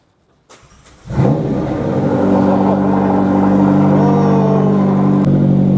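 A car engine cranks with a few sharp clicks, catches and settles into a loud, steady idle close by, with a light rise in revs; brief murmurs of voices sit beneath it.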